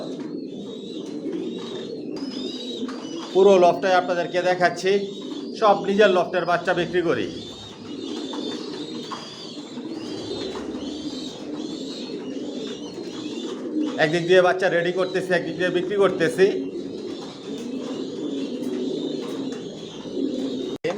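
Racer pigeons, master and racing pairs resting in a loft, coo steadily and close throughout, with bursts of wing flutter, while someone talks over them for most of the time.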